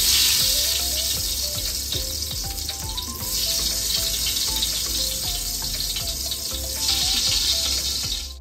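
Hot ghee left over from frying onions sizzles loudly in a pan for chicken dum biryani masala, a dense continuous crackle close to the mic, with faint clinks of utensils and no talking.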